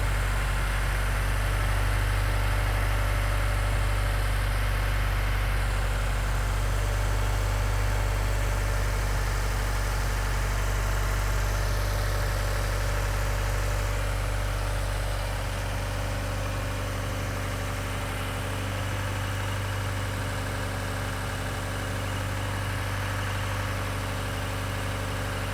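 A 2015-2019 Subaru WRX engine idles steadily for the whole stretch after a high-pressure fuel pump install, with a constant low rumble and hum and no talking.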